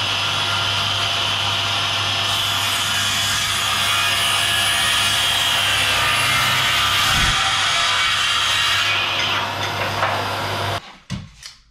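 Cordless 18V circular saw, a POPOMAN/TECCPO MTW300B, cutting through 12 mm plexiglass: a loud, steady whining cut that runs unbroken for about eleven seconds, then cuts out abruptly as the blade spins down.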